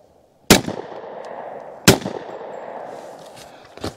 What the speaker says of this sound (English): Let me try to ring the steel down there.